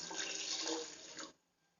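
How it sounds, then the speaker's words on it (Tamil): Water pours steadily into a pot for an herbal decoction (kashayam) against colds, a close, continuous splashing rush that runs about a second and a quarter, then cuts off abruptly, leaving quiet. "இப்போ அதில் 1 கப்பு நான் தண்ணி ஊற்றிக்கிடலாம்."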